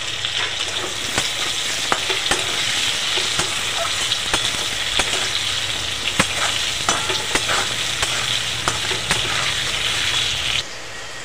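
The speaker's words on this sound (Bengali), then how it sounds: "গরম তেলের মধ্যে আলুগুলোকে ভেজে নেব" Potatoes frying in hot oil with turmeric and salt, a continuous loud sizzle with stirring scrapes and clicks throughout, fading at the very end.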